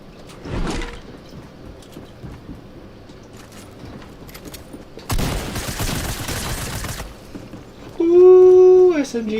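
SMG gunfire spam in a custom scrims battle royale match, a dense rapid burst of automatic fire lasting a couple of seconds amid quieter game sounds, then a rising tonal whine near the end.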